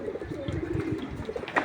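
Pigeons let out together, giving soft, low cooing in a rolling series, close but fairly quiet, with faint background noise.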